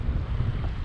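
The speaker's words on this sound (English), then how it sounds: "It's pretty windy right now" Steady wind roars and buffets the microphone at a lakeside during pike fishing in Arizona, a continuous low rumble with no voices.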